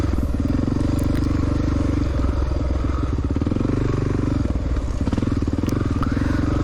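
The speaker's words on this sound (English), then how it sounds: "I pull the compression release, then I put it in first gear and bump start it." A 1993 Honda XR600R motorcycle bump started in first gear after its compression release is pulled, its single-cylinder engine catching and thumping in a steady, loud, close-up rhythm that continues throughout.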